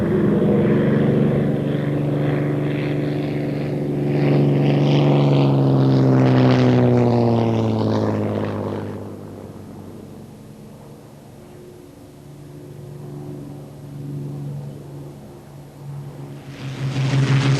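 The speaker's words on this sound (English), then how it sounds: "the Hurricane and Spitfire, symbolic of the Battle of Britain, preserved and operated by the Memorial Flight" A Hawker Hurricane and a Supermarine Spitfire of the Battle of Britain Memorial Flight passing at an air tattoo at RAF Fairford, their piston engines droning loudly as they approach, peak overhead and fade, with a second swell at the end.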